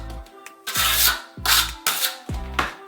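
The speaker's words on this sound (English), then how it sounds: "then I just use the back of my trowel again" Back of a trowel pressing membrane into thin-set on a tile floor, four close scraping rubs in a steady rhythm, each a short drawn-out swish with pauses between.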